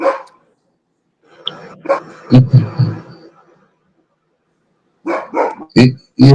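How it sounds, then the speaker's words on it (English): A dog barks during an online interview: loud, close barks come in short clusters with pauses between them, and a voice speaks briefly at the start. "You're probably hearing my dog barking."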